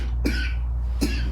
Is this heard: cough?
yes